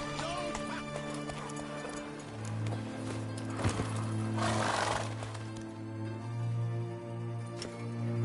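Roach, Geralt's horse in The Witcher 3 on PS4, gallops with rhythmic hoof clip-clops and a whinny over game music, with a soft voice nearby.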